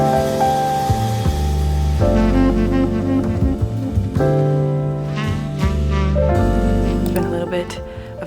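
Ambient music from a Six of Crows themed track plays steadily and fairly loud for the whole stretch, with sustained layered tones and a few swells.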